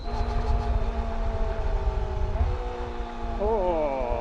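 Kawasaki ZX-25R four-cylinder motorcycle engine accelerating, a loud steady high-revving whine that climbs through the gears with a pitch shift near the end, with speech over it.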